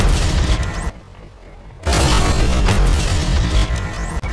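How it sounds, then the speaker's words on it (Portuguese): A double-barrelled FV225 heavy British tank cannon fires in a video game: a loud booming blast, a sudden near-silent gap, then another heavy explosive burst with rumbling aftermath. "Meu tiro simplesmente pegou no chão, canhão duplo aqui."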